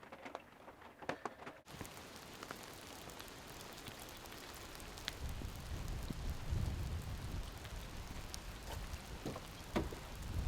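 Heavy rain falling at night on the coast around a camper truck, a dense patter of drops with sharper individual hits and a low rumbling wash that builds after a brief quieter start.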